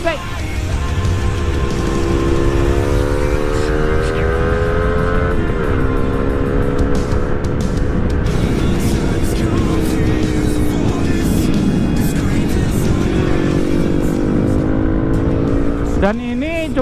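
Motorcycle fitted with a Qala Performance racing exhaust revs loudly and close, its rising and falling engine tone droning continuously, with speech underneath.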